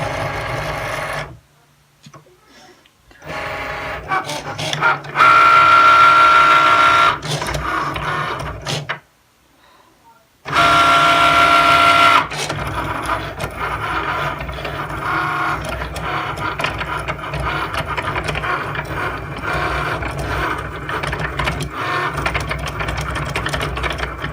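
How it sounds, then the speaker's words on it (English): A Cricut cutting machine runs with a steady, close mechanical whir and buzzing motor movements, briefly stopping twice before carrying on in a continuous busy hum. "So it says to push the Cricut button."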